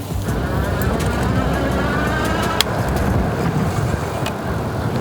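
Juiced HyperScorpion electric moped accelerating in race mode, a steady loud rush of wind and road roar with a faint motor whine, continuous throughout with one brief knock midway.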